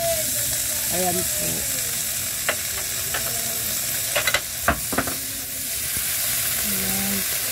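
Rice fries with shrimp paste (bagoong) in a pan, giving a steady sizzle broken by scattered spatula scrapes and clinks against the pan, close by, while someone talks briefly over it.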